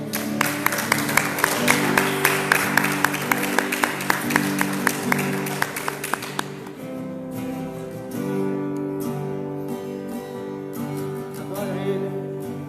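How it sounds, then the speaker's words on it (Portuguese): A church congregation claps rhythmically in unison during a Wednesday worship service for about six seconds, steady and fairly loud, before the clapping stops and sustained music carries on. "Você pode aplaudir o nome do Senhor?"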